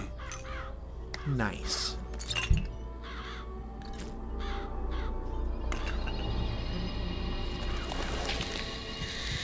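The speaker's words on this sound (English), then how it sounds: "Press to summon murderous crows." A murder of crows summoned in the Bioshock Infinite video game, with harsh repeated caws and fluttering over a busy game soundscape, a sharp crash midway, and a player speaking briefly.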